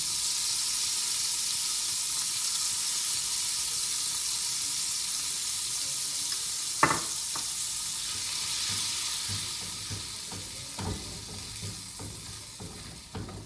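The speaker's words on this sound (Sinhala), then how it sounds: "ඊට පස්සේ පාන් පිටි හැඳි 2කමාරක් ඒකටම එකතු කරමු." Butter and flour cooking together in a saucepan, a continuous close sizzle with a few sharp utensil taps and scrapes toward the end as the mixture is stirred, no talking.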